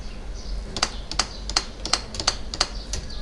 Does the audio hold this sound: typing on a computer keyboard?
yes